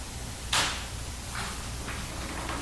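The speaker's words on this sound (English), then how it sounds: "you can clearly hear the door unlatch in order for it to open up" An old castle door unlatches with one sharp metallic snap, and its opening follows as fainter creaks and rustles. The sound is fairly close in a quiet room.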